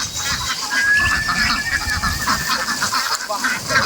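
A flock of ducks being herded into a net for loading gives dense, overlapping honking quacks, loud and close, continuing without pause under faint background noise.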